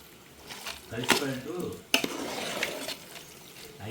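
Bread halwa stirred in a pan at home, two sharp spoon clinks against the metal over soft scraping and a faint sizzle, close up with a voice talking lightly underneath.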